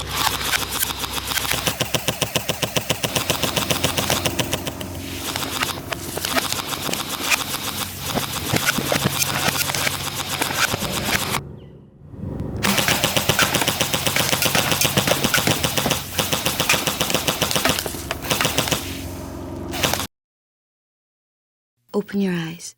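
Umarex AER16 electric .177 BB rifle firing steel BBs on full auto, long continuous rapid buzzing bursts with a short break midway, loud and close, ending abruptly.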